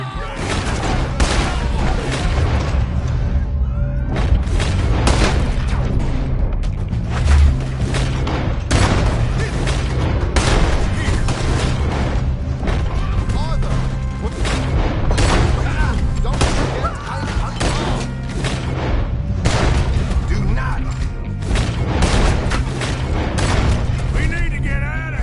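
Gunfire in a Red Dead Redemption 2 shootout, dense repeated loud shots and booming blasts in rapid irregular bursts throughout, with shouting voices mixed underneath.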